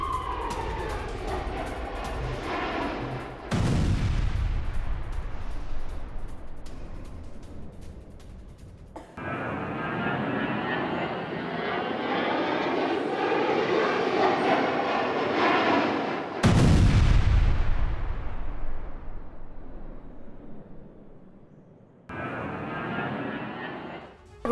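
Heavy blasts from bombs dropped by Russian aircraft on Ukrainian positions in Donetsk: several sudden loud booms cutting between stretches of roaring rumble, each hit followed by a decaying wash of noise.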